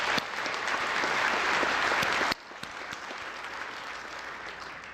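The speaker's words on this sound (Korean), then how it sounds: "우리 박수 한번 다시 한번 부탁드리겠습니다" An audience claps at a national prayer breakfast, a dense, loud burst of applause that cuts off sharply partway through, leaving a quieter room tone with scattered faint claps.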